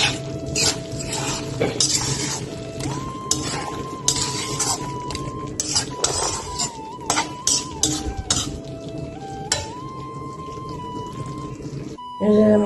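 Chicken curry being stirred in a cooking pot, with scraping and clinking of a spoon against the metal at an uneven rhythm throughout, under steady background tones.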